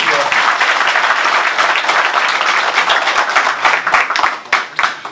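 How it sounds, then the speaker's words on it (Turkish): Loud, dense applause from a crowd at a political holiday gathering, sustained close clapping that starts to thin and break up near the end. "Tekrardan biz sizler birbiriniz kendinizi bir alkışlayın lütfen."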